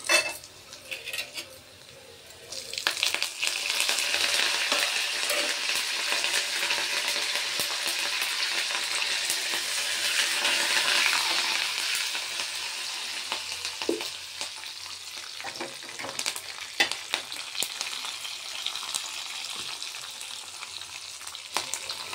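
Dal frying in a pan for Andhra-style podi pappu, with a steady close sizzle and the scrape and clink of a spoon stirring the lentils throughout. No one speaks.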